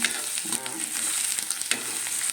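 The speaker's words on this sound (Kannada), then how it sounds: "ಇದನ್ನು ಹುರ್ಕೊಳ್ಳೋಣ ಸ್ವಲ್ಪ ಹಸಿ ಎಲ್ಲ ಹೋಗಲಿ ಹಸಿ ಎಲ್ಲ ಹೋಗೋವರೆಗೆ ಒಂಚೂರು ಹುರ್ಕೊಳ್ಳೋಣ" Sprouted fenugreek seeds roast in a pan, giving a continuous dry sizzle and crackle with scraping stirs throughout, close and moderately loud.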